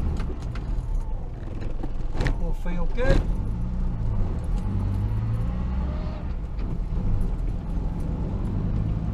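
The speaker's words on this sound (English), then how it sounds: "so we'll just give it a little test drive now we've adjusted the brakes" A Morris Minor drives on a test run after brake adjustment, its engine a steady low drone heard from inside the cabin with rattles and a couple of sharp knocks, while someone talks briefly.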